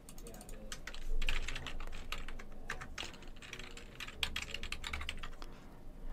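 Close, steady typing on a computer keyboard while logging in as an admin user, rapid irregular key clicks running throughout with a few heavier keystrokes.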